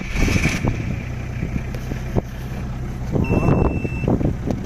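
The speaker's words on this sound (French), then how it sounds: "un petit démarrage pour que vous voyez que ça tourne bien" A Nissan Patrol's turbo engine cranks, starts and settles into a steady rough idle up close, with a few brief clunks and a short high whine partway through.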